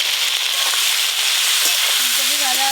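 Cauliflower florets, still wet and not well drained, frying in hot oil with salt and turmeric: a steady, loud, close hiss and sizzle, with a faint voice briefly audible near the end.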